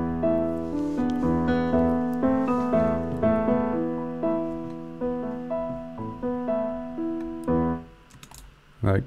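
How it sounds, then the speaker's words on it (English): Sampled grand piano in Ableton playing back a MIDI clip, a steady run of melodic notes with sustained overlapping tones, fairly loud and alone until it cuts off near the end. "loaded with a sampler that has a grand piano in it"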